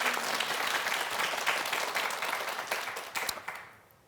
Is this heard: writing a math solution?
no